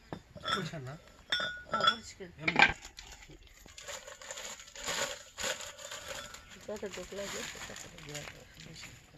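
Biscuits crushed in a bowl for Mughlai paratha, giving close, soft, intermittent clinks and scrapes of a utensil against the bowl, with quiet talk in between.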